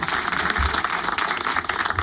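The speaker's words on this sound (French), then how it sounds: "Applaudissements en tout cas pour Que Black" Studio audience applauds steadily for Keblack at the Fréquence Plus public studio, a dense, close wash of clapping that carries on throughout without pause.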